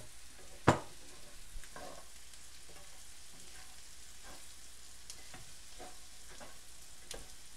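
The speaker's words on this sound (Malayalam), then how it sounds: "ബീഫ് ചേർത്ത് നന്നായി ഇളക്കണം." Fried beef is stirred into masala in a pan, a faint low sizzle under a sharp clack of a spoon against the pan, followed by scattered quieter stirring scrapes.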